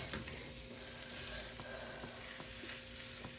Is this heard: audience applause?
no